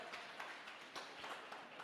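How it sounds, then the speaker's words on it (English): Students in a Grade 12 maths workshop classroom clap for themselves, a soft, steady patter of many hands heard from some distance and at low level. "Give yourselves a nice round of applause."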